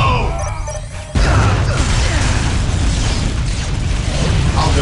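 A grenade explodes in Warhammer 40,000: Dawn of War – Soulstorm, played as Space Marines: a sudden loud blast after a second of battlefield noise, followed by a sustained roar of debris and rumbling combat.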